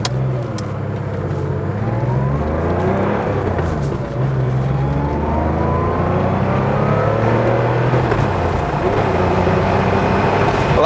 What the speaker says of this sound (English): we can just go from 0 up to 60, not thrashing it, but just so you can hear it nicely going through the gears